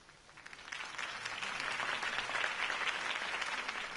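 A crowd applauding steadily in the video game Batman: The Telltale Series, the clapping building over the first second and then holding at a dense, sustained level.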